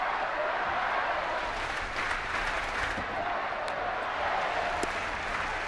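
A crowd of over 41,000 at a San Francisco Giants versus Chicago Cubs baseball game in the ninth inning, a steady distant roar of cheering and clapping with a broadcaster's commentary running over it.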